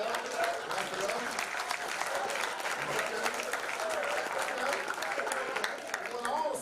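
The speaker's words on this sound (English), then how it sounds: "clap it up, clap it up, clap it up" A group at a youth national championship football media day claps continuously with sharp, dense hand claps, while voices chatter underneath throughout.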